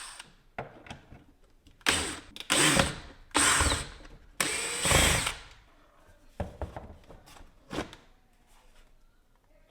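Power screwdriver backing T25 Torx screws out of the engine air filter housing on a Mercedes-Benz E350 W212, heard as several short bursts of whirring and ratcheting with quieter handling clatter between them.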